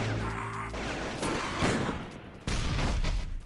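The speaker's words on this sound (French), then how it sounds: "Quand vous voyez des roquettes voler, c'est lui qui tire." Rockets from a launcher in a shooting video game, sharp booming shots and crashes firing in quick succession, loud and close with abrupt bursts.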